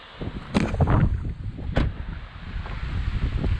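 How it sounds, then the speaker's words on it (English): Gusty wind rumbles against the microphone in a meadow in Rocky Mountain National Park, rising and falling, with a couple of brief sharp knocks or clicks near the start. "It's pretty windy."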